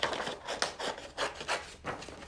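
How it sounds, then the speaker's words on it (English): Small scissors snip out paper arm shapes, giving a series of close, crisp cutting strokes at an uneven rhythm, each rasp separated by short pauses. "I'm going to cut out my little arms here."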